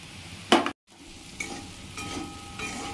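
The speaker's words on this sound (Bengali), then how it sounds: "সব ভালো করে মিশিয়ে নিচ্ছি।" Fried soybeans, almonds, cashews, peanuts and raisins are stirred together in a pan, a close scrape and rattle followed by a brief cut-out, then a soft ongoing sizzle with light scraping strokes.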